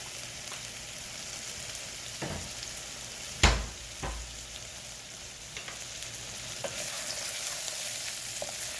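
Mushrooms frying in olive oil make a steady, close sizzle with a soft crackle, broken by a few clinks and scrapes of a utensil stirring the pan.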